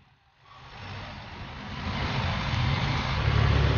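A car engine rumbles up from quiet into a steady, building roar, growing louder and fuller over a few seconds.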